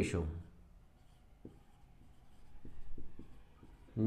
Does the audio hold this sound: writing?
yes